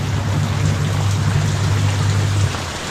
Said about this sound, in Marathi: आज बघू शकता कालपेक्षा जास्त कालपेक्षा जास्त पाऊस आज आहे बघा तुम्ही